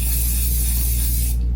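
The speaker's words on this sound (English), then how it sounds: "for heat protectant, I like using this one if I'm spraying on dry hair" Short continuous hiss of IGK Spirulina Protein Smoothing Spray heat protectant misted onto dry hair, close and steady for over a second before cutting off.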